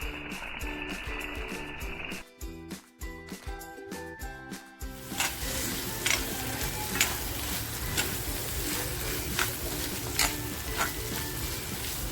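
Washed dried fish (wakti) dropped into frying masala for a spicy dry-fish curry: a few clattering stirs, then a steady loud sizzle with intermittent scraping, close and alone without talk.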